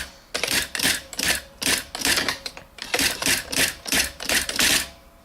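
A Panasonic KX-R210 electronic typewriter makes a rapid run of mechanical clacks and whirring strikes in quick bursts, close and loud, with short pauses between groups and no talk.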